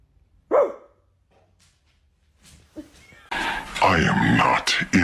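A dog gives a single sharp bark near the start, then quiet follows with a few faint sounds, before loud voices and noise fill the second half.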